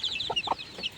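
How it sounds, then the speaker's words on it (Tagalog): Fighting roosters in cages give short, close clucks and chirps over a busy background of other birds chirping. "Lahat po ng kulungan na yan is may laman ng manok."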